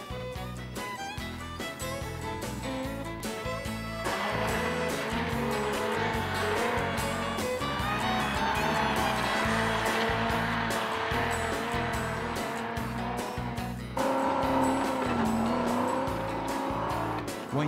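Loud vehicle engines roar and strain continuously, revving hard as off-road trucks, including a Range Rover, grind up a steep rough hill-climb track, with tire noise throughout.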